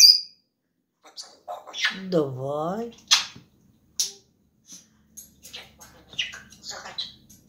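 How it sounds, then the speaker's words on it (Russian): A pet bird chirps and squawks in short, sharp calls with one longer rasping squawk, close and clear in a quiet room, between short bursts of a woman's coaxing speech. "Хорошая птица."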